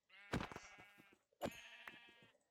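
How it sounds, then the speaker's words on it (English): Two short, bleating calls from a baby sheep in the video game Minecraft, each with a sharp onset and a wavering tail, separated by a brief pause, clear and close with no talking. "look at the little baby sheep"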